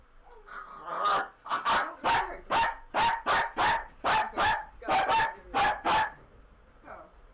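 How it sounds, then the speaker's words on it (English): A dog barks repeatedly in a quick, steady series of about a dozen loud, close barks, ending with a softer final yip. "Don't bark at this child."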